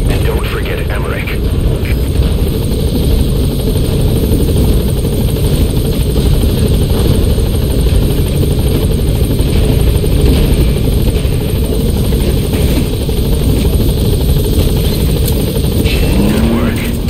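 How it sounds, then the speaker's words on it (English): Helicopter touching down in the video game Metal Gear Solid V, a loud steady rotor roar with deep low thumping that fills the whole clip, close and continuous with no pauses. "All right, the chopper's touching down. Don't waste any time getting on board."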